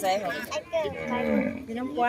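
Water buffalo low repeatedly on a farm, several long drawn-out moos close by and fairly loud, with brief pauses between calls.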